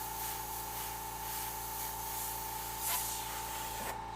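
An airbrush sprays paint through a stencil onto a Halloween pumpkin design with a continuous close hiss over a steady compressor hum, the spray briefly cutting in and out near the end.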